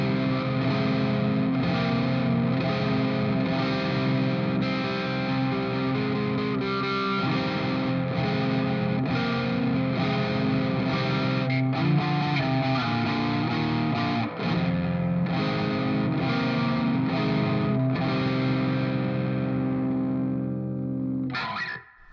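A Squier Classic Vibe Bass VI plays chords high on the neck through its neck pickup with the bass cut, the distorted, effects-laden tone ringing thick and sustained in a steady strummed rhythm before cutting off abruptly.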